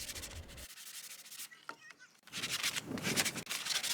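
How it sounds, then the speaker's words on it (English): Sandpaper rubbed over the freshly cut edges of a PVC drain pipe to knock off shavings and burrs, two bursts of close, raspy back-and-forth scraping with a short quiet gap between them. "I'm going to use a piece of sandpaper to clean up the edges and just get all those little shavings and burrs off"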